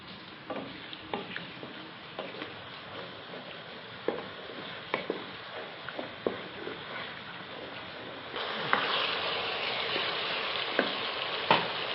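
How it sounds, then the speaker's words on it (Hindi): Onions sizzle steadily in a pan for a desi-style white chicken korma, a continuous close frying hiss with scattered stirring ticks and clinks, growing louder and denser in the last few seconds. "प्याज को हम ज़्यादा देर ब्राउन नहीं करेंगे क्योंकि वाइट चिकन कोरने के लिए प्याज का ब्राउन होना ठीक नहीं है।"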